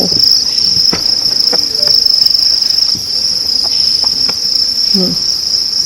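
Crickets on a cricket farm trill in a constant high, steady chorus, with faint handling clicks and knocks of trays scattered underneath.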